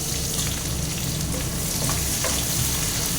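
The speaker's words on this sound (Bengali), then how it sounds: "আর কেটে রাখা আলুগুলোকে লাল করে ভেজে নেব।" Cut potatoes fry in hot oil with dried red chillies and bay leaf, giving a steady, dense sizzle that holds at an even level throughout with no voices.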